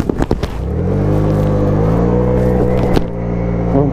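A scooter engine revs and pulls away in a city street, a loud close buzzing drone that rises after a few sputtering bursts and holds steady with a rumble underneath.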